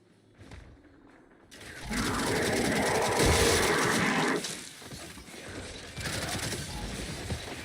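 Enemy gunfire in Gears 5 bursts in loud and close after a quiet start, a sustained rattling volley with mechanical clatter, then drops back to a lower, continuing patter of shots.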